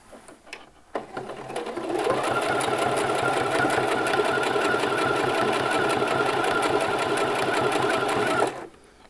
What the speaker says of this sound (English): Now we're going to sew a line of stitching along this edge here, about 3 millimeters from this folded edge